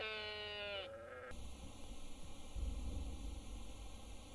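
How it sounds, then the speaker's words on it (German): A sheep in a video game gives a single wavering bleat lasting about a second, close and clear, followed by a steady hiss of background noise with low rumbling. "Oh, und hier sind auch die versprochenen Schafe."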